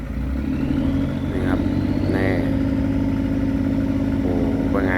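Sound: tugboat Cummins diesel engine running

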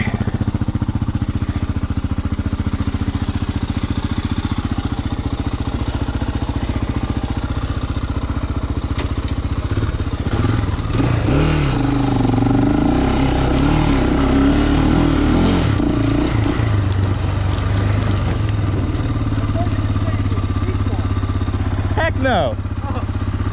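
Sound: 400cc motorcycle engine climbing over a hump

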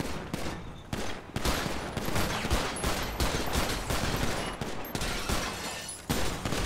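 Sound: gunshots in video game GTA 5

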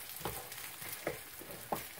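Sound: rice cake frying in a pan

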